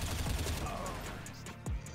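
Bursts of automatic rifle fire from the video game Counter-Strike (CSS) sound in quick, clipped volleys with sharp transients and short gaps, mixed with game effects at moderate level.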